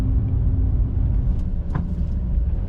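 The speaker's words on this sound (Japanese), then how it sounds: "ロードノイズについてはスタッドレスのパターンノイズだけでなく、下からいろいろな音が入ってきます" Steady low road rumble from studless winter tires on a Chevrolet MW G Selection (ME34S, 2WD) while driving on a narrow road, a constant dense drone with a brief thump midway.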